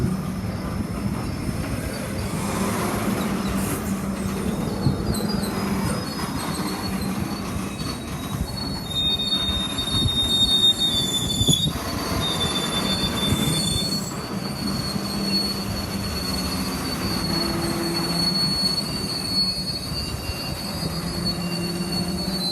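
Freight locomotive 5936 pulling a grain train away at Unanderra, with a continuous low rumble of wagons and high, sustained wheel squeal above it, steady and fairly loud without voices.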